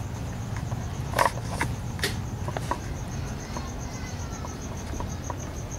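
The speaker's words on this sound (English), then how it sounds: "The sound of crickets fills the air." Crickets chirp steadily in the background, a continuous high trill over low ambient rumble, with a few faint clicks and knocks.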